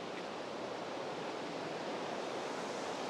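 Bald River Falls, a 90-foot waterfall where the river pours over a rock ledge, gives a steady, dense roar of falling water that stays even and moderately loud from start to finish with no talking.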